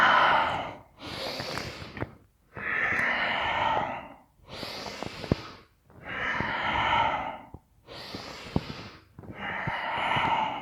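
Slow, deep breaths during a yoga class, long broadband inhales and exhales alternating in a steady rhythm of about six breaths, close and fairly loud with no talking over them.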